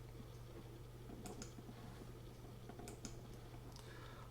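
A computer keyboard gives a few faint, scattered key clicks over a steady low hum, as for copy and paste shortcuts; no one speaks.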